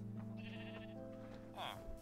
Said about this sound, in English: I heard sheep.